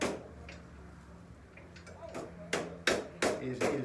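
A hammer taps nails into a broom in a run of sharp blows that grow louder and closer together toward the end, after some quieter handling.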